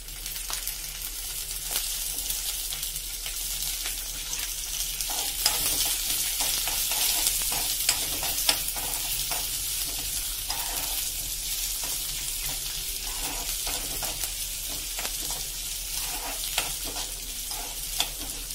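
Chana dal, urad dal and four green chillies sizzle steadily in hot oil in a pan while being stirred, a close, even crackle that runs unbroken and alone.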